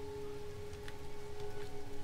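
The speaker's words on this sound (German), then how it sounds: "Wo hier saurer Regen oder Säureregen runterkommt" Acid rain patters steadily on a toxic planet in No Man's Sky, a soft continuous hiss of drops with a few brighter splashes, over a low steady game hum.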